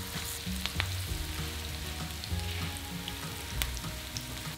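Potatoes seasoned with salt and pepper pan-fry in a hot pan with a steady, close sizzle, punctuated by occasional clacks and scrapes as they are turned, with no talking.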